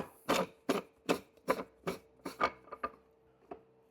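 The top of a Mockmill 100 grain mill is unscrewed. About a dozen short grinding, ratcheting rasps come close together, fairly quiet, with no talk.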